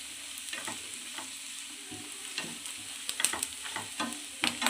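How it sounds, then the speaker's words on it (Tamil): Garlic chilli chicken frying in sesame oil in a pan, with a steady faint sizzle and occasional stirring scrapes and clicks, close by and without talk. "இது வந்து அடி பிடிக்குது. அந்த எண்ணெயிலே நல்லா பரட்டிக்கலாம்."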